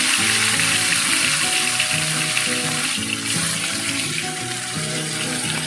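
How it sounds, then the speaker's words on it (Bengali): Koi fish fried two at a time in a modest amount of hot oil in a pan give a loud, steady crackling sizzle throughout, with a faint tonal background underneath. "দুটো করেই আমি ভাজছি।"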